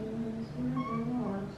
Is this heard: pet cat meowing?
yes